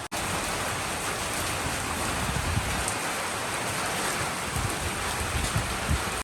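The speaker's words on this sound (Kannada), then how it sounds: "ಮಳೆ ಹೇಗಿದೆ ಮಳೆ ಬಂತು ಮಳೆ ಬಂತು ಮಳೆ ಬಂತು" Heavy rain pours down in a dense, steady roar, with scattered drops pattering close by and no speech.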